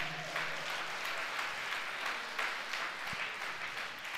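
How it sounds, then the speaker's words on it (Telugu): A church congregation claps hands together during a worship message, a steady dense patter of many hands at moderate distance continuing throughout without a break. "రెండు చేతులు ఆకాశం తట్టెత్తి చప్పట్లు కొడదామా"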